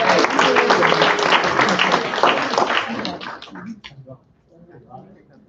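A church crowd at a housing resource workshop applauds a presenter coming up, dense clapping for about three seconds that thins and fades into quieter room noise.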